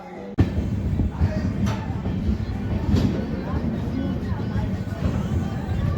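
Dikshabhoomi Express 11045 pulling out of Parli Vaijnath railway station, a steady low rumble of rolling coaches heard from inside the train with faint background voices and occasional clanks.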